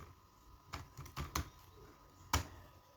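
Keys on a computer keyboard clack in a handful of short, quiet taps, a quick cluster near the start and one firmer stroke after a pause, over a faint background hum.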